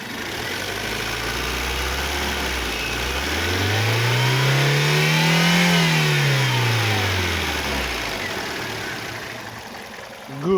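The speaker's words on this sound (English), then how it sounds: "Let me switch hands and rev up the engine." Mazda 626 GF engine, warm and running with a swapped intake manifold, revs up from idle in one smooth rising and falling sweep, loud and close, then settles back.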